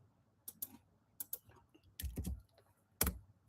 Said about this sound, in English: Let me type in first with this.